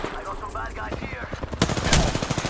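Rapid automatic gunfire in a first-person shooter video game, loud bursts of rattling shots building toward the end, mixed with quick overlapping voices.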